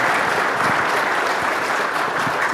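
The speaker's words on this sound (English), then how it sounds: "Let's give them all a round of applause." A church congregation at a Sunday service claps together in a steady, dense round of applause, full and close, with no talk over it.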